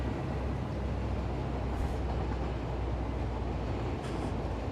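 An AI-driven train in the Satisfactory video game rolls past with a steady, loud rumble and a continuous rattle from its wheels and wagons.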